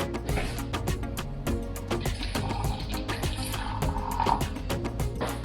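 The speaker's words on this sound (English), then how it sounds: "Gonna add some hot water." Hot water pours steadily into a container, a continuous close splashing stream with faint clinks, and no one speaks.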